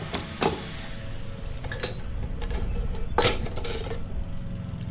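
Metal pieces of a Fire Maple camping stove cookset clink and clatter as the set is opened, with several sharp knocks and rattles among a busy jumble of handling sounds, close by and without speech.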